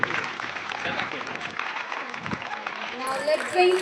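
An audience at a school Republic Day program applauds for a teacher, a moderate patter of many hands continuing for several seconds, with a voice heard underneath.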